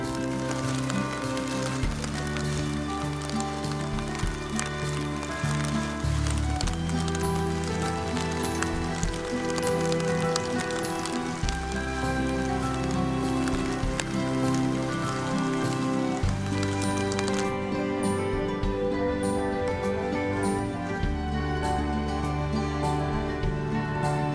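Rain falls steadily on a tent at a campsite, a dense, continuous patter close by on the fabric that keeps up with shifting intensity throughout, with occasional faint activity beneath.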